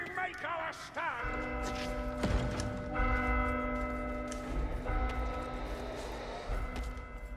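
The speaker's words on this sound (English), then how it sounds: "Strike the bell!" A bell rings out in the video game Vermintide 2, with several resonant metallic strikes spaced a second or two apart over a busy background of game sound.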